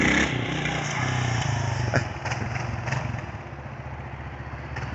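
An old motorcycle engine runs steadily and loudly nearby, a continuous rough throb with a few thumps, from a bike being revived after sitting for years.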